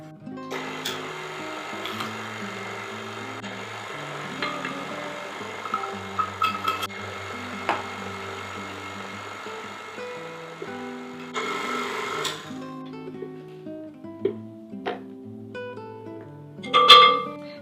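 An electric mixer runs on low while flour is added to sourdough blueberry buckle batter, giving a steady soft motor hum that cuts out near the end, followed by a few light clinks and bumps.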